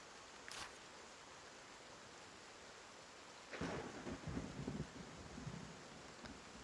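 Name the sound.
thunder in the video game Wartales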